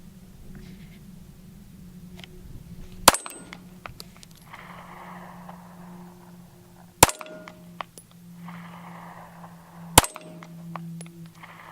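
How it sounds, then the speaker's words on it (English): Three sharp, loud pistol shots from a Ruger LCP II compact pistol, spaced a few seconds apart at an outdoor range, each a crisp crack with a brief ringing tail over a low steady background hum. "now let's shoot the LCP II"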